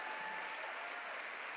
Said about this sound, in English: So that definitely deserves a round of applause.